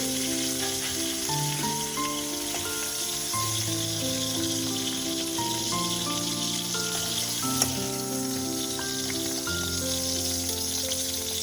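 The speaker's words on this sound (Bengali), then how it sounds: "এখন কিন্তু গ্যাসটা বাড়িয়ে দিয়েছি, বাড়িয়েই আমি ভাজবো।" Cauliflower pieces frying in oil in a wok over a high gas flame make a steady, even sizzle that runs under background music.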